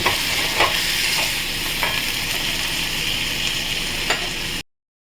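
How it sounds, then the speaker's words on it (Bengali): Prawns frying in a little oil with a splash of water added, a loud, dense sizzle and bubbling hiss close by, with a few soft utensil taps, cutting off abruptly near the end, no talking. "একটু সামান্য জল দিচ্ছি কষিয়ে নেবো জলটা দিয়ে"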